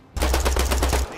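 In the video game Nine To Five, a weapon fires one quick, loud burst of automatic gunfire of about a dozen rapid shots in roughly a second.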